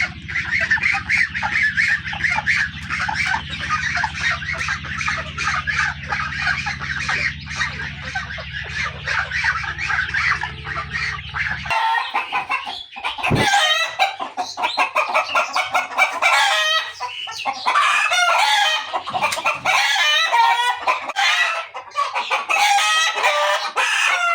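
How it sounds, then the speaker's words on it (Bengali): Native desi chickens on a farm cluck and crow nearly nonstop, a dense loud flock chorus with a rooster crowing among them; a steady low hum runs under the first half, then the birds continue alone. "এই হলো দেশি মুরগি"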